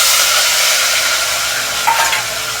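Chopped tomato, onion, green chilli and coriander with yogurt sizzling loudly in hot oil, a steady dense hiss of frying under occasional stirring, close and continuous without talk.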